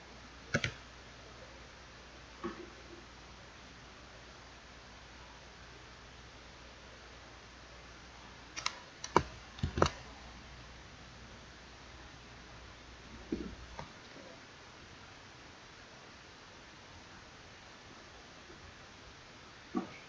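Keys on a computer keyboard are typed during AutoCAD drafting work, heard as sparse isolated clicks and a few quick clustered taps over faint steady background hiss.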